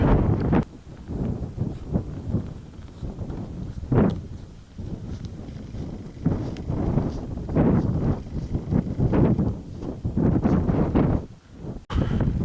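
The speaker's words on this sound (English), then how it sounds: "Oh, that wind is torture. It's very, very cold in the face." Strong cold wind blasts across the Scottish mountain Meall Reamhar in sub-zero conditions, buffeting the microphone in heavy, uneven gusts with low rumbling surges and brief lulls, close and loud throughout.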